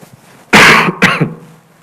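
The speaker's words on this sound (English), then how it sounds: "Sorry that I'm coughing." During a conference keynote speech, one harsh, close cough bursts out, followed quickly by a second shorter cough, then quiet.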